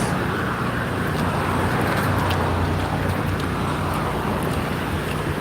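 Steady, dense roar of street traffic with continuous road noise and a wash of wind, no distinct voices, loud and unbroken throughout.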